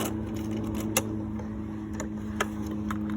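A sewing machine stitches a French seam, a steady close-up mechanical hum with a low motor drone throughout, broken by two sharp clicks.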